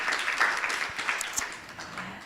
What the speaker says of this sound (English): Let's give him a round of applause for catching that one today